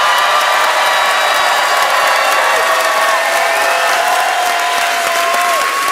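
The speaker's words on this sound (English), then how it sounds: "make some noise for your headliner, Josh Johnson." A comedy club audience in Milwaukee applauds and cheers loudly and continuously for the headlining comedian, a dense wash of clapping with occasional whoops.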